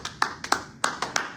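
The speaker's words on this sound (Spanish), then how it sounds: "Denle un aplauso al Señor en esta hora." A handful of sharp, distinct hand claps from a church congregation in an uneven rhythm, fairly close, with a slight room echo.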